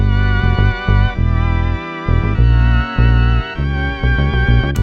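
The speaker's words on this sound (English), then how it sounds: "With the organ, sounds like this." Sustained organ chords changing in a bouncy rhythm with brief gaps, full and loud with a deep bass line underneath.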